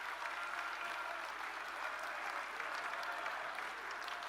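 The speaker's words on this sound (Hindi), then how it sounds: "इसके लिए हम सभी एक बार तालियां बजाकर अपने प्रधानमंत्री मोदी जी का अभिनंदन करें।" Steady, dense applause from a large audience at a BJP political rally, a continuous wash of clapping heard from a moderate distance with no voices over it.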